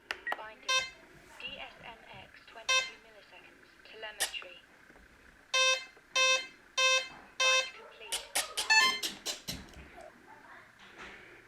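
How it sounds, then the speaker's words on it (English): An RC plane's receiver beeps while being bound to its radio, sending short repeated electronic bursts in an irregular series, fairly close and clear, with someone talking in between. "You can hear that the plane is beeping."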